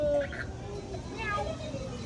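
During family New Year party games, a person's voice imitates a cat's meow with brief, faint, rising cries amid quiet background chatter.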